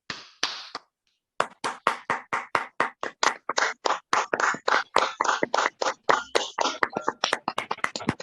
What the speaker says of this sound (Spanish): en agradecimiento le ofrecemos a usted este aplauso